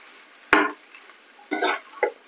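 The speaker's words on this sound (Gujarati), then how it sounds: "અને પણ સહેજ સોતે કરી લેવાનું છે બધું." Cabbage and spring roll filling sautéed and stirred in a pan at home, with a sharp scrape at the start and two later bursts of sizzling, stirring clatter; no talk.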